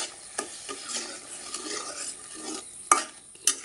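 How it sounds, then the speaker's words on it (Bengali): Spice paste seasoned with salt is stirred and sautéed in a pan, giving soft irregular scraping strokes over a gentle sizzle, with two sharp utensil clinks near the end. "মশলাটা ভালো করে কষিয়ে নিই।"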